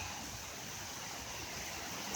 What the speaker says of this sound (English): as the river runs